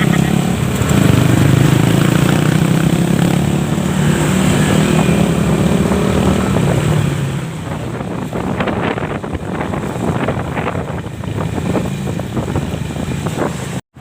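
A Motorstar motorcycle engine hums under strong wind rush on the mic, louder for the first half and then settling into a thinner, gustier ride.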